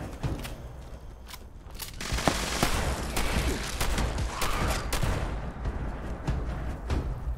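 Rapid gunfire from a shotgun and other weapons in the video game Fallout 76, with dense overlapping shots and booms that hold loud through the whole stretch, no talk.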